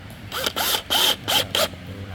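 A screwdriver drives small screws into a panel of the WD6010 dressing table during assembly. Five short, close whirring bursts with quiet gaps between them.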